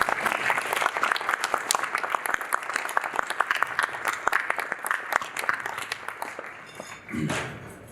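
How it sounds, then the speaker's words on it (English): An audience at an award ceremony applauds the award recipients, with steady, fairly loud clapping and a few distinct sharp claps for about seven seconds before a brief murmur as it dies down. "You all deserve a round of applause"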